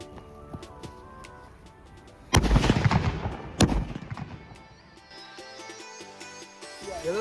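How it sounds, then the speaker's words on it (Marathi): Firecracker bombs set on a television screen burst with a sudden loud blast followed by a second crack and crackling debris, after quieter background ticking and tones. "हे बघा डायरेक्ट ब्लास्ट. हे बघता तुम्ही स्क्रीन पूर्ण ब्लास्ट झाले."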